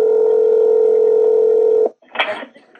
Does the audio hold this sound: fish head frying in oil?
no